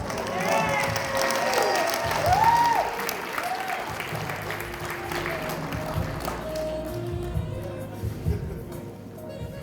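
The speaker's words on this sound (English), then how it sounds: "Give them a big round of applause to the original people." Crowd applause and cheering for a jazz band in New Orleans, Louisiana, with scattered whoops and voices mixed into the clapping, which thins out over the second half.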